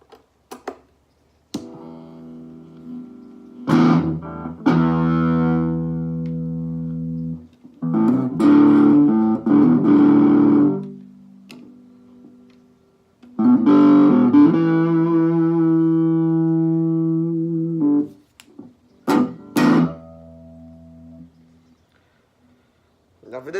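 A heavily distorted electric guitar plays sustained chords and short riffs, loud and close, with brief pauses between phrases.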